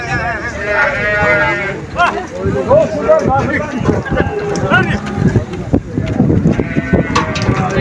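Several sheep bleat loudly and repeatedly nearby at a livestock market, overlapping one another, with people talking and moving around amid the commotion.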